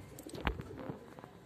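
A caged pigeon with a cold gives one soft, brief coo-like call up close, open-mouthed breathing amid faint rustles, and the rest stays quiet.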